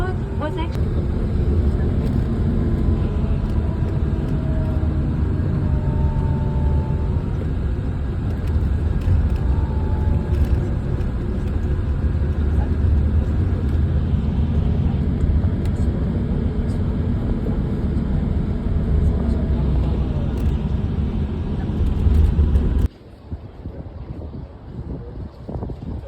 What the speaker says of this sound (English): Now currently we are driving across the bridge of Dr. Franjo Tuđman.